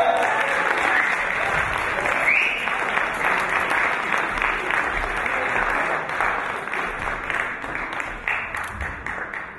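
Open-mic audience at a speakeasy-style night in Manchester's Zion Centre applauding steadily, a dense sustained wash of clapping that holds for the full stretch and thins slightly toward the end, with faint crowd murmur mixed in.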